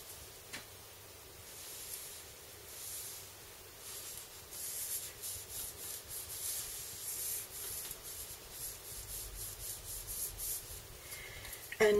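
Black soot distress ink rubbed around the edges of paper pages for a flip folder, a soft, steady scuffing and rubbing close by that runs in repeated strokes, with no talking.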